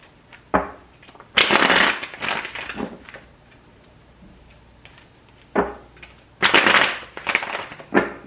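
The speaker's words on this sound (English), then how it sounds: "I'm gonna shuffle these cards real quick" Tarot cards are shuffled by hand in two close, loud bursts of riffling and flicking, each lasting a second or two, with a few softer taps and a long quiet gap between them.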